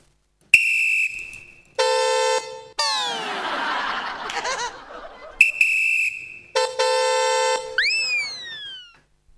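A performer on a comedy stage vocally imitates a vehicle horn in a series of loud, sustained honking blasts with sliding whistle-like swoops between them, and the audience laughs.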